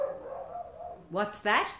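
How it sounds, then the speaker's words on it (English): A dog barks outside, two short sharp barks in quick succession at the end, heard after a voice asks a brief question. "That's a dog barking out the back."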